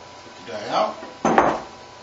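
A metal die is pulled out of a heavy-duty semi-automatic punch and binder machine, giving two short scraping, clattering bursts of metal contact, the second sharper and louder, close by with no talk.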